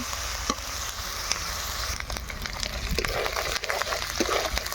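Onions sizzling in a hot pan while being stirred: a continuous close crackle with brief scraping and knocking strokes from the spoon scattered through it, and no voices.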